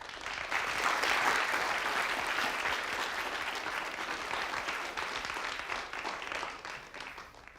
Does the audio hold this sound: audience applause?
yes